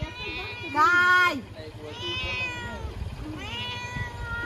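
A cat lets out three drawn-out meows: the first is loud and close, and two softer ones follow a moment apart, over a low steady background hum.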